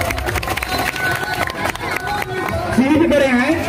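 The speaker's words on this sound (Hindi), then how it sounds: "जोरदार ताली बजाएं आप सब लोग।" An audience at a Ram Leela event claps loudly during a welcome ceremony for the committee president, a busy crowd noise with a voice speaking over it.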